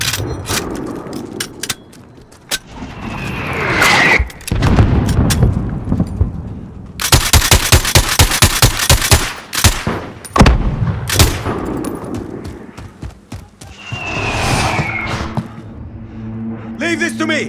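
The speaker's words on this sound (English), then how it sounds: "Got mortars incoming!" Incoming mortar blasts and rapid gunfire in Call of Duty Modern Warfare, loud bursts of automatic fire punctuated by heavy booms and whistling shells, with voices shouting over the combat.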